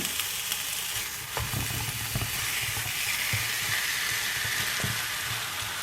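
Frozen kofta frying with leftover vegetables in a pan, giving a dense, steady sizzle with occasional crackles and light stirring knocks, close and continuous.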